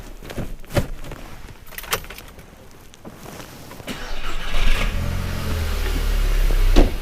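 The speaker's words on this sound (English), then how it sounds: "let me just start the engine" A VW MK5 Golf GTI with its MAF sensor disconnected is started: a few clicks and knocks, then the engine cranks and catches into a rough, loud running rumble that builds close by, with no talk.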